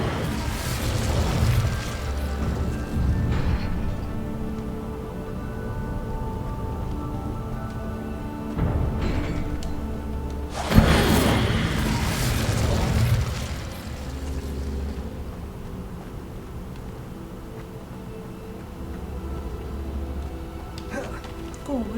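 An Incendio fire spell cast in Hogwarts Legacy, heard as a few sharp bursts and booming whooshes over a steady game backdrop, with a loud flare near the middle and talk at times.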